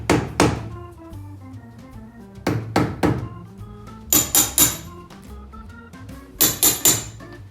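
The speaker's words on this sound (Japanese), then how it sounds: "トップリフトを取り付けていきます。 釘で固定していきますね。" Nails hammered through a top lift into the stacked leather heel of a Red Wing 1951 boot, close and loud: sharp metallic strikes in short bursts of two to four blows separated by pauses.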